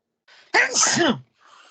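A single loud, close sneeze bursts out abruptly during a wrestling podcast recording, with brief faint vocal sounds just before and after it.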